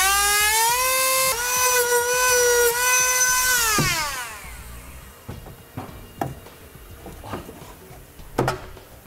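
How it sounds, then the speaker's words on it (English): A rotary tool whines at high speed while cutting into the steel frame of a 2013 Ford F-150 pickup. It holds a steady pitch for about four seconds, winds down, and is followed by scattered scraping, handling clatter and knocks. "I'm gonna use a rotary tool in order to cut this out."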